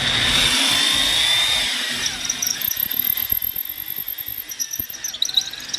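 A handheld power drill whines at high speed against a truck steering knuckle, then slows and grinds with uneven chattering bursts as it bites into the metal, close and loud.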